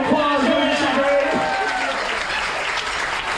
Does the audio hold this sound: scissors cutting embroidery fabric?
no